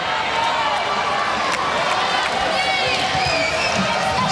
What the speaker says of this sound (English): Stan Sheriff Center crowd sensing Hawaii lagging a bit, starting to make some more noise to urge the home team on